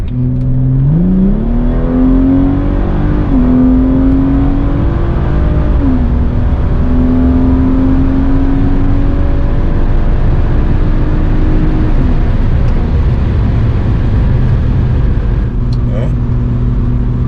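A BMW 340i's stock B58 engine running E85 flex fuel revs up hard, its pitch climbing and holding through long pulls, loud and close, with a brief shift partway.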